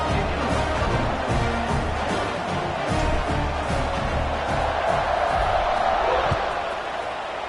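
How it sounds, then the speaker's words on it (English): A football stadium crowd buzzes after a touchdown, a dense, steady roar of many voices that fills the whole stretch at a loud, even level. "this crowd is buzzing after that last score"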